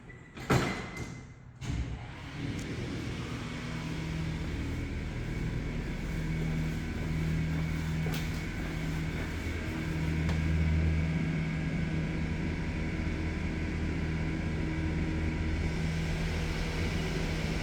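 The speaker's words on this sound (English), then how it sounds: "I'm gonna send it up and we'll see if we can listen to the motor" The motor of a modded General/Delta hydraulic elevator at the Concord Building drones steadily as the car rises, giving a low continuous hum with a few thumps and clunks at the start.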